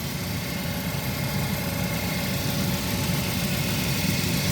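A car engine idles steadily nearby, a continuous low rumbling hum with faint mechanical vibration and no voices.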